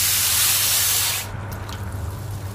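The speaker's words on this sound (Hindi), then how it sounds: "इसमें हम ऐड करेंगे 3 कप पानी के" Three cups of water pour steadily into a pan holding sugar, making syrup for sweet vermicelli, in a loud, hissing stream for about a second, then cut off, leaving a low background hum with faint clinks.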